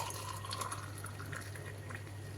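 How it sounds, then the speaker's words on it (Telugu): Hot boiled water pours steadily into a large glass, a continuous close liquid splash with a faint gurgle, alone with no talking over a steady low hum. "ఈ గ్లాస్లో బాగా కాగబెట్టిన వేడి నీళ్ళు"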